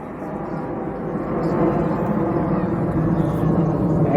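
RAF Red Arrows jets pulling up through an aerobatic loop at the Torbay Airshow, a broad distant engine roar that swells steadily and stays loud, with a commentator's voice over it.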